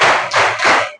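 Three sharp hand claps in a counted classroom clap routine, close and loud, spaced evenly with short gaps and no talk.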